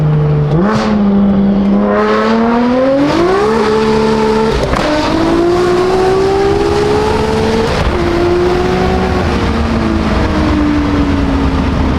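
A BMW M4 engine revs hard and loud, pitch climbing in repeated rising sweeps that hold and drop again over twelve seconds, close up and alone without talk.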